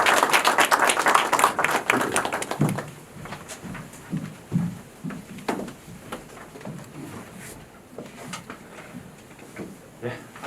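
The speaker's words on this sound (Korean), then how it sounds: "큰 박수로 맞이해주시기 바랍니다" An audience at a Korean seminar on the Serious Accidents Punishment Act welcomes a speaker with applause. The clapping is dense at first, fades after a few seconds into scattered claps, and then shuffling and faint room noise take over.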